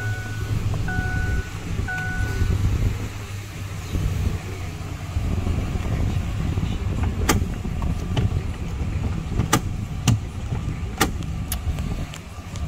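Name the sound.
2007 Ford F150 XLT engine started and running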